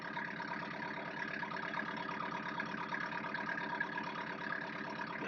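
A sailboat's engine runs steadily at close range as a low, even mechanical drone with a throbbing pulse, holding at one speed throughout with no clear rise or fall and no talk.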